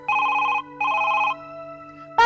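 A telephone rings in two electronic bursts separated by a short pause, with a steady tone lingering underneath and a brief clatter at the end.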